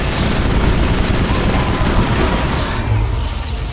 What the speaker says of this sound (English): So the assault rifle's real inaccurate.